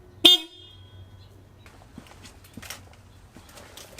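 Hella Supertone horns fitted to a Subaru WRX give one short, loud blast near the start, followed by quieter background clatter and faint rustling.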